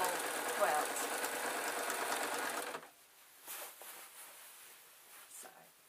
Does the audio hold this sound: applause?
no